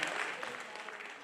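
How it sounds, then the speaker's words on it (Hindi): Applause at a stage play during a winter theatre festival, a dense, steady wash of many hands clapping that holds evenly through the short stretch, fairly faint and distant. "हमारे कलाकार ही ताली खुद के लिए बजा रहे हैं"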